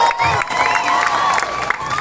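Crowd cheers and claps at a Miss Gay pageant, a dense, continuous roar of shouting and applause with high-pitched whoops rising above it.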